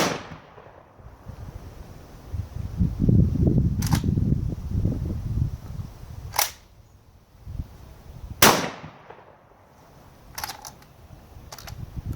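A shotgun is fired outdoors and cycles its action, producing about five sharp, loud cracks at irregular intervals with mechanical clatter between them and a low rumbling stretch early on.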